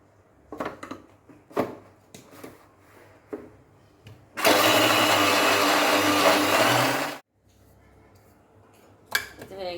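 A kitchen blender grinds soaked lentils, rice and green chili, a loud steady motor whir lasting about three seconds, set between scattered clinks and handling noises.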